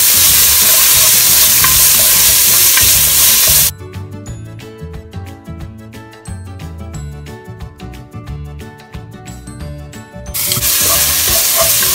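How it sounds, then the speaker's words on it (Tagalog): Onions sautéing in a pan for a sweet Filipino-style spaghetti sauce: loud, close hissing sizzle with stirring scrapes, the frying dropping to quieter crackling bursts in the middle before the full sizzle returns; no talking. "Tapos, a-add na natin yung ating onions. So, gisayin lang natin ito hanggang lumambot siya."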